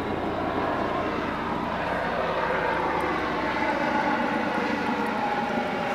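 A fixed-wing airplane flies over close to an airport, its engine roar loud and steady for the whole stretch, with no talking.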